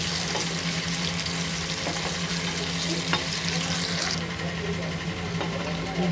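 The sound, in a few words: onions frying in oil, stirred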